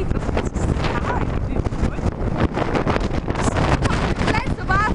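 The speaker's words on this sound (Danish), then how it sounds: "Det blæser bare fucking meget." Strong wind buffets the microphone in loud, continuous gusts, with a voice faintly audible beneath the roar.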